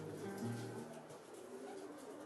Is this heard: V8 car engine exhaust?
no